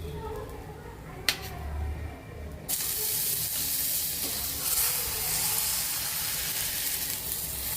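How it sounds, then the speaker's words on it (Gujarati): An aloo paratha fries in fresh homemade butter on a pan, giving a steady close sizzle that jumps sharply louder and denser partway through, with a brief clatter before the surge. "એક બાજુ સરસ તળાઈ જાય એટલે આપણે પાછો ઉલટાવી અને પાછું માખણ નાખીશું"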